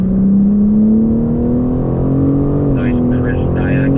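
A BMW accelerating on the Thermal race track: a loud, steady engine drone that rises slowly in pitch as throttle builds, with a brief higher whine near the end.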